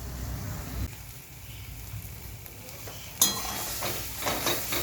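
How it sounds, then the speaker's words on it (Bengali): Fig paste being stirred in a pan until its water dries off, a soft sizzle with faint scraping, growing louder and busier with stirring toward the end. "ডুমুরটা যতক্ষণ না ভালো জল শুকিয়ে যাচ্ছে ততক্ষণ এটাকে আমি নাড়তে থাকবো"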